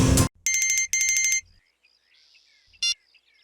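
An incoming call sets off a phone ringtone: three quick bursts of a bright electronic tone with short gaps, followed by a fainter tone and one brief sharp beep, all heard alone.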